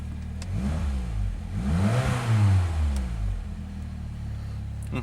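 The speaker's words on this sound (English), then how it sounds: "That's the first time I've revved it that high." A car engine up on ramps revs upward to a high pitch and then falls back, one strong swell of sound in the middle against a steady idle, close by.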